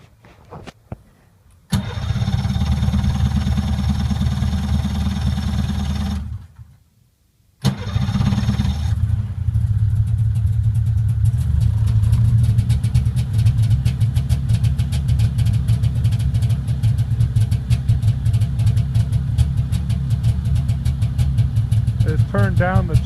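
Polaris Indy 340 snowmobile engine cranks and fires from cold, runs loudly, cuts out briefly, then restarts and settles into a steady, close idle for the rest of the clip.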